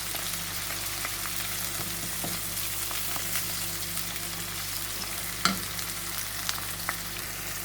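Halved tomatoes frying in a pan, a steady close sizzle running throughout with occasional soft stirring clicks and taps.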